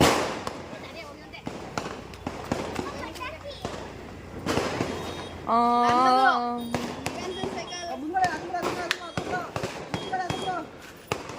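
Diwali firecrackers burst in sharp, scattered cracks, some in quick clusters, while children shout and talk nearby.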